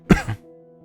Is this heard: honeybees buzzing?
no